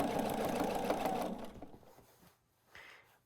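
A sewing machine back-stitching a purse seam, a short close whirring run that stops abruptly, followed by faint handling rustle.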